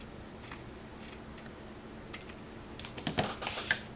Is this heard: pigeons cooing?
no